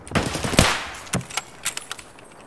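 Video game gunfire in an online shooter: bursts of rapid automatic shots, one loud close burst followed by scattered sharper cracks, with no talk over it.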